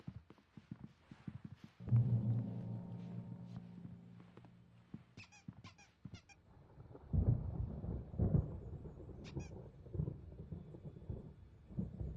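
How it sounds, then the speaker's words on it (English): In the video game Alan Wake, thunder from an approaching storm builds as a deep rolling rumble that swells twice. Quieter scattered clicks and ambient game sounds fill the gaps. "There's a storm coming."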